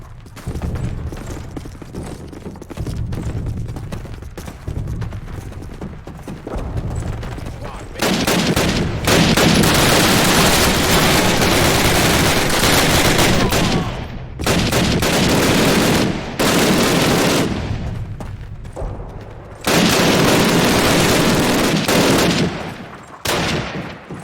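Heavy sustained automatic gunfire from covering fire in the video game Call of Duty, long loud volleys close by broken by short pauses, with occasional booms and a voice faintly underneath.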